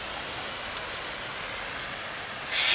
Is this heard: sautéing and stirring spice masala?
no